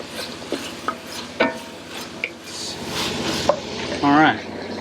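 Spoon scrapes and clinks against a pot while chili ingredients with salt and black pepper are stirred, several short knocks and a brief squeak over a faint low hum.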